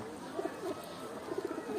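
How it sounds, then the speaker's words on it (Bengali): Soft cooing from a male pigeon of the Rabbani bloodline, a few low murmuring calls repeated in short bursts close by over a light background hum. "এটা হচ্ছে নর কবুতরটা"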